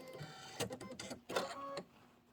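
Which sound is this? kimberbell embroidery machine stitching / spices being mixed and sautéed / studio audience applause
kimberbell embroidery machine stitching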